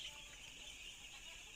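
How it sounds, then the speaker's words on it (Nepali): Five-day-old chicks in a poultry brooding house of about 3,100 birds, a faint, continuous chorus of soft cheeping with a steady background hum. "यो चाहिँ आज 5 दिनको चल्ला हो"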